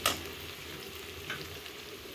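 Onions and ginger-garlic paste sizzle steadily in a hot pan for a mutton roast, a close, continuous frying hiss with a light stir near the start and another about a second later.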